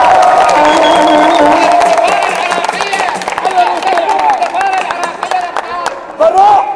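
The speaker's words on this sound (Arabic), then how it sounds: "تصفيق للسفارة." Iraqi fans in a hotel in Malaysia celebrate a win over Korea, a loud crowd cheering and chanting together over sharp, rhythmic clapping.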